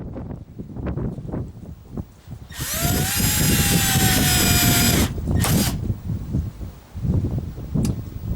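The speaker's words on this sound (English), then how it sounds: "it's a cheap, poor quality drill bit from China" A power drill fitted with a cheap, poor-quality bit bores through material in a workshop, whining loudly for about two and a half seconds, then a short second burst follows, with clattering handling noises before and after.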